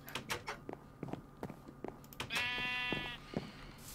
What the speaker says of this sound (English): No, the baby sheep's out there.